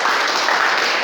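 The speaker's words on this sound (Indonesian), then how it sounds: "Kasih aplaus dong buat dia." A room of training participants claps in applause for one person, a dense, even patter of hands held at a steady level throughout.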